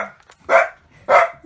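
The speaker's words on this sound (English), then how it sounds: "dog is barking" A dog barks twice, close by, with a short pause between the two sharp, full barks and quiet in between.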